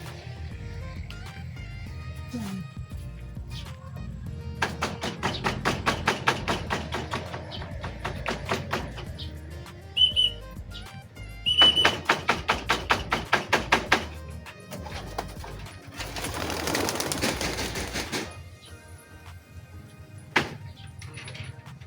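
Several flurries of rapid wing flapping as a flock of pigeons is released and flies, with quiet gaps between the bursts.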